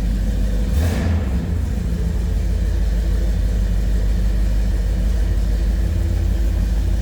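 A 1971 Oldsmobile 442 convertible's 455 V8 idles after a cold start, giving a deep steady rumble with a brief louder swell near the start and no talk.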